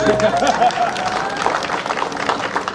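Audience applause at an agro-pastoral forum in Ngomedzap, Cameroon, a dense patter of clapping from a crowd mixed with voices and some tonal background sound throughout.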